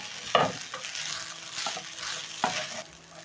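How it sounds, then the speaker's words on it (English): A spatula breaks up lumps of pilau rice stir-fried with colorful vegetables, giving a steady sizzle punctuated by a few sharp scraping knocks against the pan, close and fairly loud with no voices. "Using my spatula, I'm going to break the large lumps of rice so that the rice can cook evenly."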